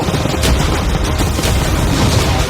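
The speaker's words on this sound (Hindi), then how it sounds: "कैनन्स को फायर करो।" Cannons fire at a yacht in a staged outdoor event, a dense burst of overlapping booms and rapid blasts rolling continuously with heavy low rumble.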